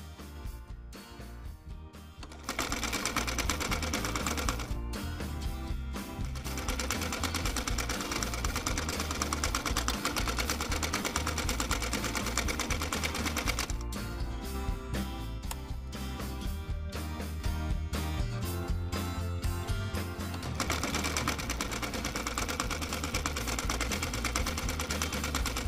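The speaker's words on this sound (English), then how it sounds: "Now I will stitch this and this with regular stitch." Sewing machine running a regular stitch on a twisted turban headband, a continuous loud mechanical whirring that starts after a brief softer moment and runs steadily with faint rhythmic ticking, no talking.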